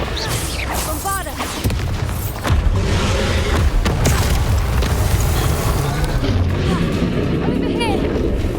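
The Bombarda spell in Hogwarts Legacy, the game, erupts with loud booming blasts over continuous rumbling battle noise, with a voice calling out under the din.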